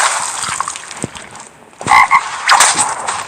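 Frog croaks from a video game character, a few short raspy bursts over a low ambient background, fairly close and clear, with no talking.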